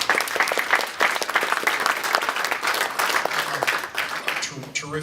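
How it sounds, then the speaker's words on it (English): Sustained applause fills a post-fight press conference for a Bellator MMA event, dense clapping from a crowd with some voices mixed in throughout. "A huge applause to him."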